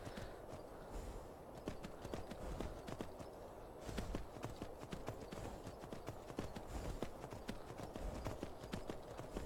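Horse hooves galloping in the video game Skyrim: a fast, even clip-clop of footfalls runs throughout at a moderate, fairly quiet level.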